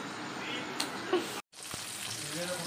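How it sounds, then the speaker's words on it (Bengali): Hilsa fish frying in oil during a village cooking festival, a soft steady sizzle under faint background voices, briefly cut by a moment of silence partway through. "ইলিশ মাছ ভাজা, ইলিশ মাছগুলো ভেজে তারপরে শুরু হবে কাতলা মাছ"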